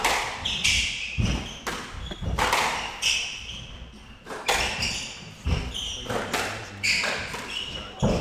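Squash ball shots in a men's professional final rally at a PSA Challenger event, heard as a run of sharp thuds off racket and walls with squeaking shoes, close and irregular, with no talk.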